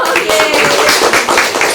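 A school class clapping hands together during a lesson on online business and marketing, a short burst of close, loud rapid claps with some voices mixed in.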